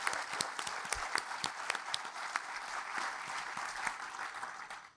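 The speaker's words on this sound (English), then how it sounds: "A huge round of applause for our chairperson." Audience at a convocation ceremony applauds in a dense, steady burst of clapping from many hands, loud and sustained for several seconds before fading at the end.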